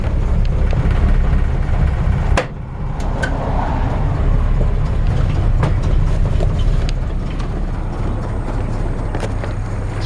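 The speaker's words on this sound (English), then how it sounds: "Very typical little Hurricane engine, 4-cylinder." 1950 Willys Panel Wagon with its 4-cylinder Hurricane engine idling, a steady low rumble close by, broken by a sharp knock or click partway through, with no talking.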